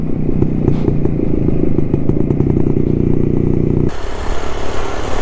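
A loud motorcycle engine, heard through a helmet while riding, rumbles steadily before its tone drops abruptly as the rider shifts into top gear.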